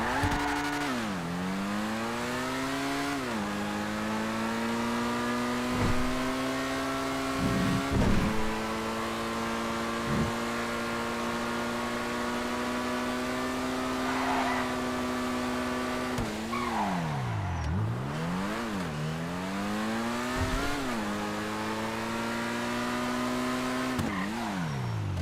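NS S80RR race car engine in a video game revving hard through repeated gear changes, pitch climbing then dropping sharply at each shift, loud and continuous with occasional tire noise.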